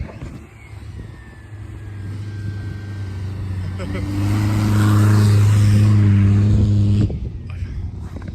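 Four-wheel drives come down a New Zealand beach, an engine drone swelling loud and close in the middle then easing off, with a person talking over it.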